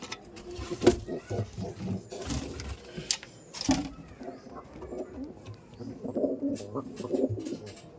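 Laldom pigeons coo in a loft, soft repeated throaty calls from several birds nearby, with intermittent rustles and knocks in between.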